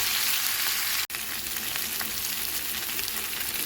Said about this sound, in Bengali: দিয়ে মশলাটাকে কষিয়ে নেব।